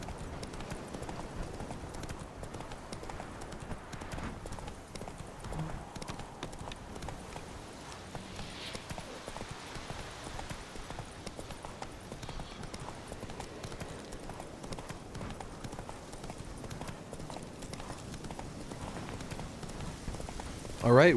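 Roach, a horse in The Witcher 3, galloping with a steady, rapid clip-clop of hooves that runs the whole time at a moderate level, with a voice talking over it.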